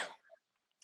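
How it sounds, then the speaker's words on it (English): A single short cough bursts out at the start, close and fairly loud, followed by a faint throat noise and then near silence. "Sorry, I'm gonna cough."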